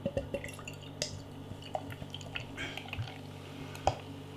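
Columbus Pale Ale, a bottle-conditioned American craft beer from Columbus Brewing Company, trickles and drips into a glass, with soft scattered splashes and clinks that stay quiet.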